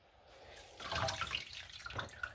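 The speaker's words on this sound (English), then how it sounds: "I am gonna let this water out so that I can wash his sippy" Water drains out of a kitchen sink, a gurgling, bubbling wash that swells after a quiet start and keeps churning at close range, with no voices present.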